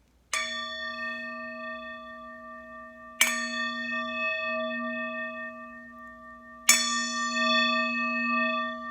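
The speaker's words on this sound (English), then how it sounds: "I'm going to hit the bell 3 times" A bell is struck three times at even intervals of about three seconds. Each strike rings out clear and bright, then sustains a long, pure resonant tone that carries into the next, with no talking.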